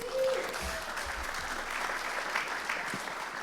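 A conference audience at a Cloud Native Rejekts Europe event claps steadily, a dense sustained patter of many hands filling the room at moderate volume throughout.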